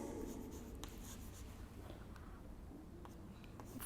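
Numbers written by hand with a pen on paper, a soft continuous scratching of strokes at close range with no talking.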